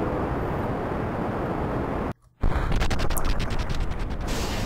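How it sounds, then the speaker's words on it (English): A rocket explodes in Kerbal Space Program: steady roaring engine noise cuts out abruptly for a split second, then returns as loud, dense crackling bursts. "we had an explosion"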